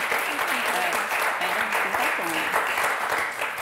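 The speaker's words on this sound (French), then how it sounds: "Nous, on vous applaudit très fort." A French television game show studio audience applauds the contestants, a dense sustained wash of clapping with a voice speaking over it.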